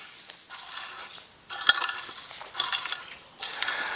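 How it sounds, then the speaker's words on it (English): A rake scrapes and drags through loose soil in a no-dig garden bed after a garlic harvest, in three or four close bursts of gritty scratching separated by brief pauses, with one sharp knock. "all I really need to do is just give it a bit of a rake over to get it roughly level"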